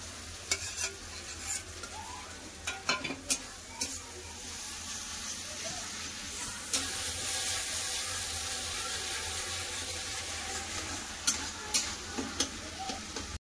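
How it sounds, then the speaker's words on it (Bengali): Ground spice paste fries in oil in a pan with a constant sizzle. A spoon clacks and scrapes against the pan in clusters, busiest at the start and again near the end. "এবার বেটে রাখা মশলা দিয়ে দেবো।"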